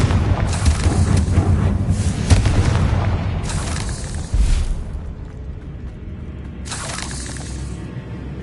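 Confringo spell blasts from Hogwarts Legacy fire as a series of loud, booming explosions, several bursts in a row with rumbling tails between them.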